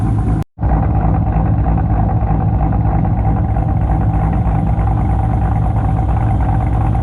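A supercharged Corvette engine idles steadily and loudly up close, a continuous even drone broken only by a brief dropout near the start.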